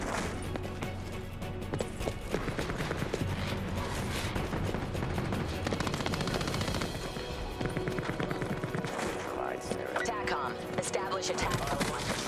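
Gunfire from a Black Ops 4 multiplayer match rattles in dense, continuous bursts layered with game effects and mechanical clatter, with a voice talking over the action.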